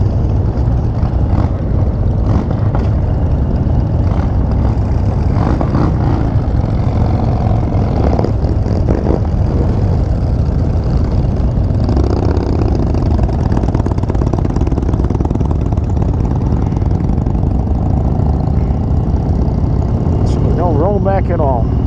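A motorcycle engine idling steadily at the Sturgis rally, a constant low rumble running throughout with people talking over it.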